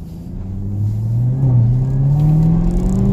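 A 2018 Chevrolet Camaro ZL1 accelerates on a test drive, its engine a loud, close rumble whose pitch climbs steadily and then holds high and strong.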